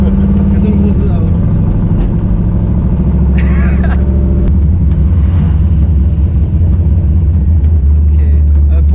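A Chevy Nova V8 muscle car idles with a deep, loud rumble and then pulls away under gentle throttle, its engine note steady and close while people talk over it.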